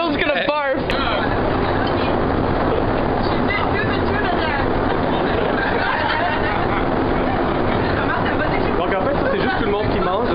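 A Montreal Metro subway train rumbles steadily and loudly for the whole stretch, with a crowd's chatter blended into the roar and a sharp click near the start.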